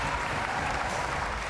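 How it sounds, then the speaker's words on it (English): Spectators at a skateboarding competition final applaud a skater, a loud, dense, unbroken roar of clapping filling the whole moment. "He deserves all of these applause."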